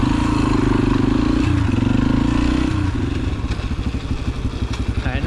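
A pit bike rides on asphalt, its small engine droning steadily near and loud with tire noise, then the exhaust shifts into a choppy, pulsing putter as the ride slows.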